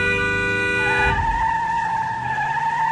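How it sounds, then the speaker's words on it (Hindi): A van skids before crashing into a truck in a sound effect: a harsh tire squeal gives way to a deep impact thud, then a lingering high screech tone rings on alone. "भयानक टक्कर की आवाज पूरी सड़क पर गूंज उठी"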